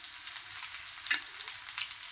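Anchovy cutlets frying in hot oil make a soft, continuous sizzle with a few brief crackles and pops, heard close with no talking.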